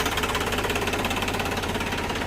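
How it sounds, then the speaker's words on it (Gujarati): A tractor engine hitched to a harrow runs nearby at a steady idle, its low, even knocking throb continuing without pause. "ટ્રેક્ટર આપણે કાલ દ્વારથી જોડેલી જ છે, ચાલુ કરી દીધું છે."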